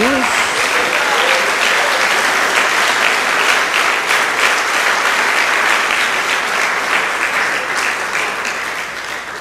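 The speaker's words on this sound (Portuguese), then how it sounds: "Dá uma salva de palmas a Jesus." A church congregation applauding, a full, dense roar of clapping that sustains loudly for about nine seconds and tapers slightly near the end, with faint voices blended in.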